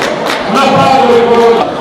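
Audience at a prize-giving for the oldest truffle hunter in Certaldo breaks into a crowd murmur and applause-like wash, steady and moderately loud for a couple of seconds with no clear individual claps.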